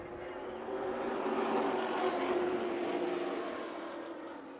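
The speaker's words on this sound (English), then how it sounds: "These trucks carry some speed through the corners." A steady engine roar builds and fades over a few seconds as pro trucks race past at a distance at Colorado National Speedway, fairly faint with no talking.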